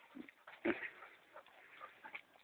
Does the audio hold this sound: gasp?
no